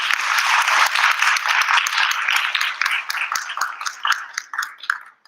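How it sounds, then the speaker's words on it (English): Audience applause at a Bharatanatyam dance arangetram, a dense, loud burst of many hands that thins into scattered individual claps and fades out toward the end. "So please give her a round of applause"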